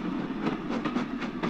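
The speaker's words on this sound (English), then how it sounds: "Our train departs, negotiating the 40 chain radius curve" A train departs along a 40-chain radius curve, a steady rolling rumble with rhythmic clickety-clack beats of wheels over rail joints at moderate distance, no voices.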